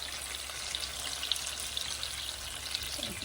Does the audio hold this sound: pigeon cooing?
no